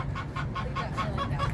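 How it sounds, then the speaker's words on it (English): Chickens cluck close by in a quick, regular series of short calls, about six or seven in a row over a low background hum. "So they've got live chickens here."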